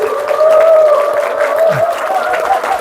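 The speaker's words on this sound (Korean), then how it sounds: "좀 큰 박수로 환영" A crowd gathered to meet the centenarian philosopher Professor Kim Hyung-seok breaks into steady, continuous applause, a dense clapping wash with a faint crowd murmur beneath it.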